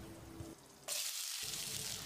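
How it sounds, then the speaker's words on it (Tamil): Two finely chopped large onions fry in hot oil in a pan with cinnamon, cloves and cardamom, giving a steady, close sizzle that drops out briefly in the middle before returning. "வெங்காயத்தை நல்லா பொன்னிறமாக வதக்கிடலாம்."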